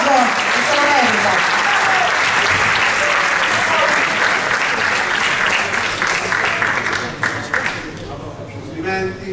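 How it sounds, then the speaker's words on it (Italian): Audience applause for a student at a school sports awards event celebrating an Italian technical institute's 150th anniversary, loud continuous clapping that thins toward the end while a voice speaks over it. "un applauso al ragazzo, dai, un bel applauso, che se lo merita."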